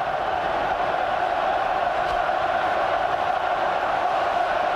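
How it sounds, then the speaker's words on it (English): A dense stadium crowd roars continuously at a 2001 Lions rugby match as the team closes in on the try line, a loud sustained wash of cheering with no breaks. "Look at this crowd."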